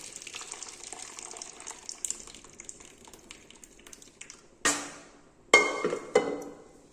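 Water from a pressure cooker of cooked dal is poured off into a separate vessel, heard as several short gushing splashes in the final seconds after a stretch of quiet trickling, with no talk.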